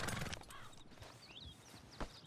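A horse's hooves clop over ground in Red Dead Redemption, a steady, close, moderately loud gait lasting a couple of seconds, with a few faint whistling tones over the top.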